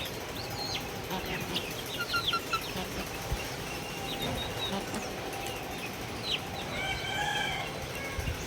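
Native country chickens feeding on finely chopped onion pieces, with continuous clucking, squawks and scuffling pecks close by, flies buzzing around, and a rooster crowing faintly in the background.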